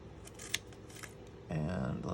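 Scissors snip through stacked paper to cut fringe pieces for a craft project, with a few crisp cuts followed by a louder, steadier stretch of cutting, close to the mic with a voice present.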